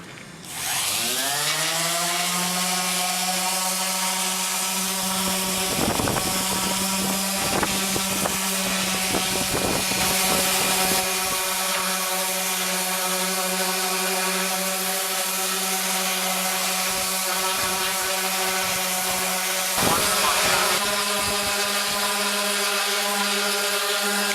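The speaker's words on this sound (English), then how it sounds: "we're using a random orbital sander" A random orbital sander runs continuously while smoothing wooden edges for a fodder system build, spinning up with a rising whine and then holding a steady buzzing drone, with brief rougher bursts as the pad bites the wood.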